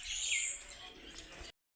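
A tiny black bird gives a faint, high chirp near its nest, a short trilling call early on followed by softer twitters before the sound cuts off abruptly.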